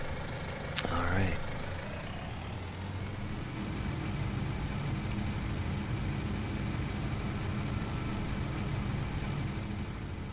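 Steady low engine drone of a small tractor in Farming Simulator 19, running continuously at an even level throughout, fairly quiet, with a brief sharp tone near the start.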